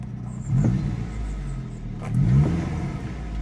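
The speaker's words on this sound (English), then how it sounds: "If we rev it up," A Saab 900 Turbo 16-valve engine revs up twice in quick succession, each blip rising and falling back, loud and close with a steady rumble between.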